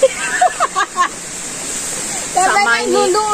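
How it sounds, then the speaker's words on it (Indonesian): A river babbles steadily beside an outdoor riverside meal, with a continuous watery rush under the whole stretch while people talk over it. "Diiringi suara gemuruh air. Gemericik ora gemuruh. Gemericik air."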